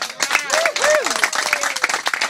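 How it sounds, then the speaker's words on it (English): Festival crowd applauding a performer at Cottonfest 2009, a broad clapping wash running under someone talking over it throughout. "Let's clap one more time for Michael Reno Harrell."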